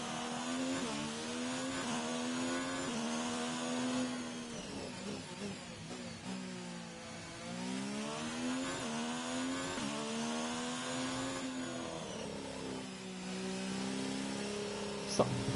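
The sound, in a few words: damaged F1 car engine growling and rattling in F1 2019 video game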